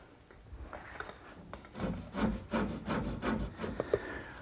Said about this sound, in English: A lot of sanding and more sanding